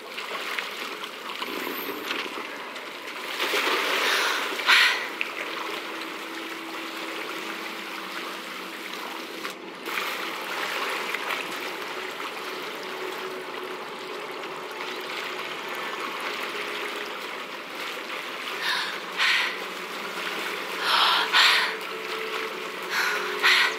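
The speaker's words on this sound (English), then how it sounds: "Look, where the water's bubbling" Water bubbling in a quiet outdoor spot in Hogwarts Legacy: a soft, steady burble and trickle close by, with light splashy bursts now and then against a calm, hushed ambience.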